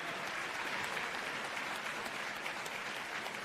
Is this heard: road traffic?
no